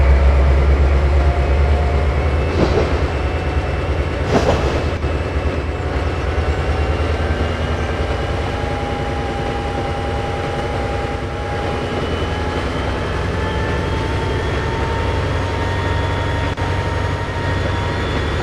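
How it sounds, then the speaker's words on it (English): Locomotive number 6107 throttling up to maximum speed, a continuous heavy engine rumble with rising tonal whine, loud and steady for the whole stretch with a couple of brief clanks early on. "Testing the first locomotive, throttling up to max speed immediately."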